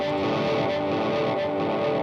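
An electric guitar played through a distortion effect sustains a dense, buzzing, continuous tone for about two seconds, with no talking.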